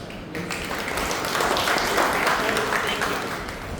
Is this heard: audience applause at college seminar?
yes